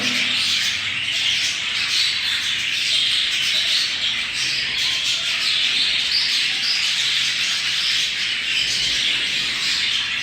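Pet birds in a small production workshop call continuously, a dense layer of chirps and squawks at steady loudness throughout, with no talk.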